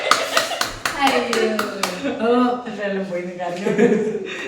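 A short burst of sharp hand claps, several in quick succession near the start, followed by people talking and laughing close by.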